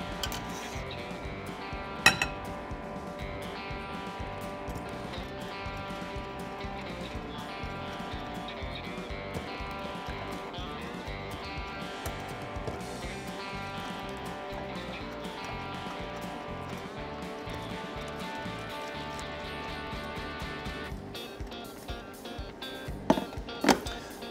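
Heavy cream is slowly whisked into an egg mixture in a bowl for crème brûlée, with steady light clinking and scraping of utensil against the bowl and a few sharper knocks.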